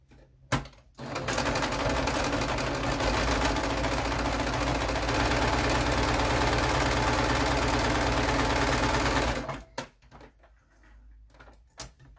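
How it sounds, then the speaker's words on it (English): A sewing machine stitching down the folded half-inch edge of a fabric face mask, one steady fast whirring run of about nine seconds, close and loud, with brief clicks before and after. "just fold it in 1/2 inch and then sew that down"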